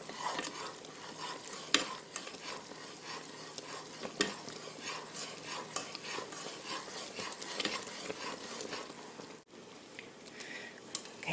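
Pear preserves bubble and sizzle quietly in a pot at a full boil, with soft stirring and occasional pops.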